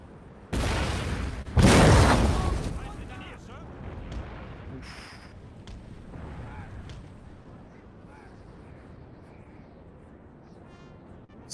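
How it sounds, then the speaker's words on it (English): Howitzer artillery fire in Total War: Napoleon, two heavy booms in quick succession followed by a long rumbling decay and fainter distant shots. "Right now this is just a battle of howitzers."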